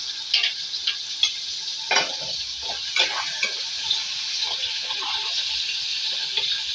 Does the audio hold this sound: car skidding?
no